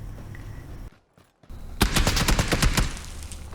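Gunfire rings out in the video game PUBG, a rapid burst of about a dozen loud, sharp shots after a brief silence, over a low background hum.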